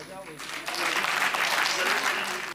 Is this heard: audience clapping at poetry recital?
yes